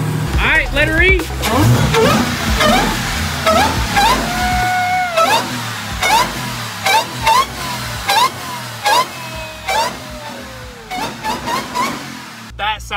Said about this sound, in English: The exhaust even sounds better.